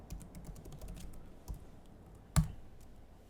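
A computer keyboard clatters with quiet, uneven keystrokes as a terminal command is typed, ending in a single sharper key press near the end.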